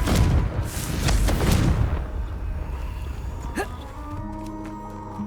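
A Confringo blasting spell exploding in the video game Hogwarts Legacy, heard as a heavy boom with rumbling debris that trails off into quieter game sounds.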